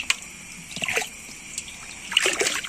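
Mountain stream water piped into a holding tank trickles and splashes in short bursts, with a quiet wash in between and a livelier patter near the end, close and with no voices.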